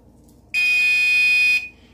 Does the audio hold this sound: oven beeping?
yes